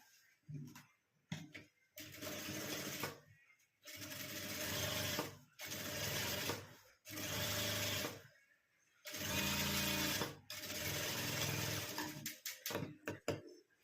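Short bursts of rapid mechanical whirring as a sewing machine stitches the fabric of a handmade handbag made from blouse-piece cloth, close and steady, stopping and starting about half a dozen times.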